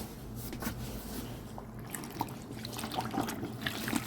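Water trickles and dribbles quietly into a bucket being filled to make a dye fixative, a faint, steady pour with small splashes and no talk.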